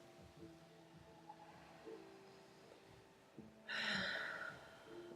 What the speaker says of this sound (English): Take an inhale, take an exhale through the mouth.